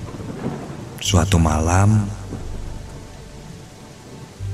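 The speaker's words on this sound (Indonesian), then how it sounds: "karena hujan sangat besar dan petir pun menyambar sana sini." Heavy rain and a rolling thunderclap form the backdrop of a night scene in an Indonesian radio horror story. The rumble swells loudly near the start, the rain hisses steadily throughout, and a narrator speaks over it.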